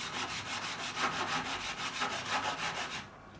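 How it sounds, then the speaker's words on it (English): Leveling file bevelling guitar fret ends near the binding on a Michael Kelly Patriot Premium being refretted: steady, rapid rasping strokes in a regular rhythm, close and fairly quiet, ending abruptly with a brief silence. "And I'm going to start beveling."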